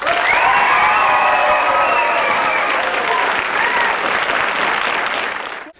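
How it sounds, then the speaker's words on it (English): A studio audience applauds new contestants at a podcast recording, with loud, dense clapping sustained for nearly six seconds. A few cheers and voices rise within it before it cuts off abruptly. "A big round of applause, please, for our new contestants"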